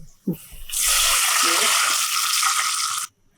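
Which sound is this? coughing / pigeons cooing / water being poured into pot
water being poured into pot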